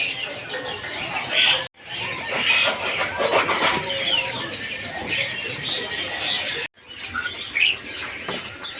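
Caged murai birds at the Pramuka bird market give busy chirps and clucking calls with some wing flutter, close and lively, over market bustle and a faint voice, with two brief dropouts in the sound.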